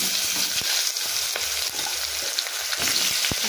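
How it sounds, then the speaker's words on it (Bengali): Coarsely chopped onions fry in a pan with a steady, close sizzle, punctuated by the occasional scrape and click of stirring. "পেঁয়াজগুলো আমি দিয়ে দিলাম। এবার পেঁয়াজটা কিছুটা পরিমাণ ভাজা ভাজা হবে"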